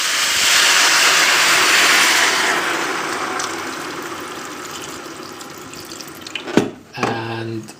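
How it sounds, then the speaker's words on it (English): Water runs hard from a kitchen tap while cooking papet vaudois, a steady loud rushing that gradually eases, then a few clunks and a brief squeak as the flow stops near the end. "we are going to add the water."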